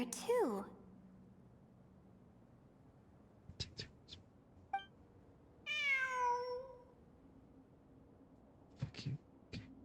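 A cat meows in the game Genshin Impact, a single clear rising-and-falling meow in the middle of quiet ambience, with other brief soft sounds around it.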